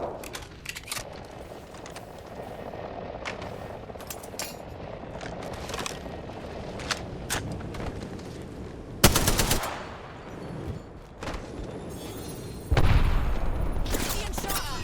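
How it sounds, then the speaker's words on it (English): Gunfire in Apex Legends, bursts of automatic fire and scattered single shots with sharp booms, mixed with in-game voice lines and effects. "Being shot at."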